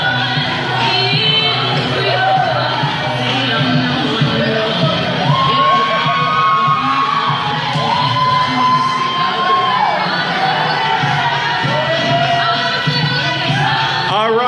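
Lively crowd at a wedding garter placement cheering, whooping and shouting continuously, with high excited voices rising above the roar throughout, loud and close.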